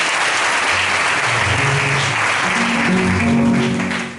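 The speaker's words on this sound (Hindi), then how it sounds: "ताली बजाओ यीशु मसीह के नाम।" A congregation at a Christian prayer meeting claps steadily and densely, close and loud, with musical tones and a voice-like hum rising under the clapping.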